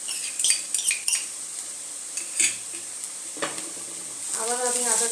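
Onion fried with ginger-garlic paste in a pan: a low sizzle under repeated scrapes and clinks of a spoon stirring against the metal, with the frying hiss swelling louder near the end.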